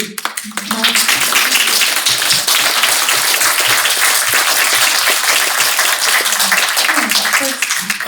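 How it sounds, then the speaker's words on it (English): Audience applause after a book event conversation, a dense, steady clapping that fills the room at full strength for the whole stretch. "maybe give a round of applause"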